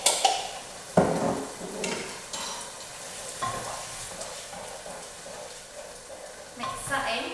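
Chickpeas with ginger and garlic being stirred in a frying pan, soft scraping strokes and light sizzling with a few sharper utensil knocks, close and moderately loud, with brief voice sounds in the background.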